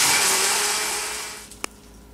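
A blender whirs loudly mixing an iced coffee cocktail, a steady broad motor roar that gradually winds down and fades, ending with a single sharp click, no voices.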